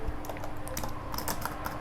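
Rapid, irregular typing on a computer keyboard, a steady stream of close, light key clicks with no voices.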